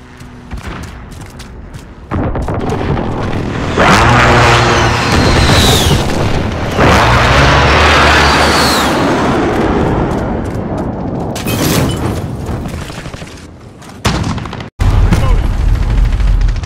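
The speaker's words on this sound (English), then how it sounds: "Airstrike incoming, beware." Airstrike explosions in the video game Modern Warfare land as loud, heavy booms and rumbling blasts, several bursts in sequence over sustained battle noise, with a voice briefly heard among them.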